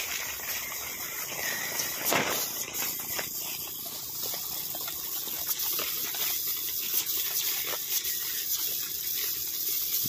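Steady broadband hiss of water spraying from a 360-degree automatic lawn sprinkler, continuous and fairly close, with occasional soft bursts and no voices.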